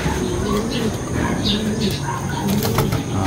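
A racing pigeon coos in soft, repeated throaty bursts, with wing flaps and distant voices in the background of a loft.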